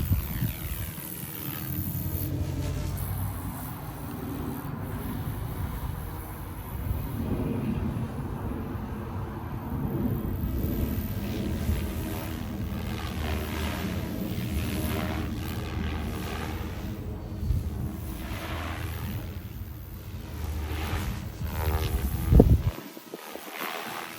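A Goosky RS4 RC helicopter flies on its maiden flight, its steady rotor and motor whine continuous under wind noise for the whole stretch, fairly distant and moderately quiet, with a sharp bump near the end.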